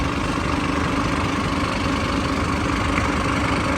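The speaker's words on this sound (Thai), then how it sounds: "เครื่องยนต์มันต้องแบบนี้ครับ" An engine runs steadily nearby, a constant rough rumbling drone with no change in pace.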